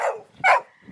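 A dog gives two quick, fairly loud barks in a comedy TV episode, each a short sharp burst close by with a brief gap between.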